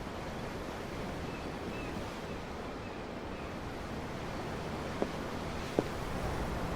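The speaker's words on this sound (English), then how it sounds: "The ocean? Yeah. The waves." Ocean waves in the video game Tales of Arise wash in a steady, continuous roar with no voices, broken by two faint brief clicks near the end.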